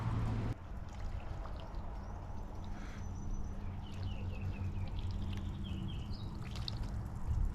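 Clean water pours steadily from the outlet of a hot water pressure washer with its tip removed, a continuous close splashing flow that starts after a brief low hum and carries on alone.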